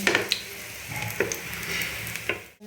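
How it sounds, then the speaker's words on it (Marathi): Homemade pea cutlets shallow frying in oil in a pan: a soft steady sizzle broken by a few sharp clicks and taps of a utensil, brief and close, no talk. "मी अशी शॅलो फ्राय करत आहे"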